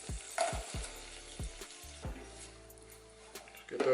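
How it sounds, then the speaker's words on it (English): Butter and brown sugar melt over low heat in a pan while being stirred, giving soft sizzling and several scraping stirs with quiet pauses between them. "We're going to have that pan on like a low right now because we want that butter to melt down kind of slow."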